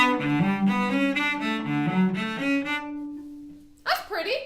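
Cello playing bar 3 of the Prelude from Bach's sixth suite, a run of evenly weighted notes in steady rhythm that rings out and decays, followed by a brief voice speaking.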